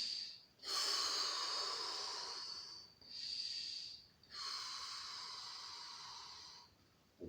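Slow, deep breaths during a relaxation exercise for back pain, three long airy inhale-exhale phases close to the microphone with short pauses between, no talking.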